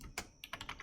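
Keystrokes on a computer keyboard while entering a database command, a quick burst of clicks followed by several evenly spaced taps, close and fairly quiet.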